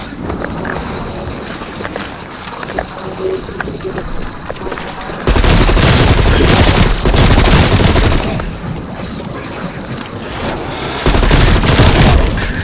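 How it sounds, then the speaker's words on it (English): Gunfire and a grenade explosion in Call of Duty Black Ops Cold War, with loud, dense bursts of rapid shots and blasts in two heavy stretches over a continuous rumble of battle noise. "Throwing grenade."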